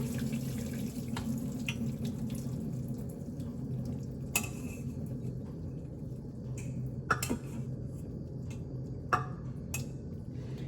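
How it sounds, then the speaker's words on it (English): Boiled pasta drained into a kitchen sink, a steady rush of pouring water running throughout with occasional sharp clinks and ticks of metal pot or colander. "I'm gonna just drain the pasta"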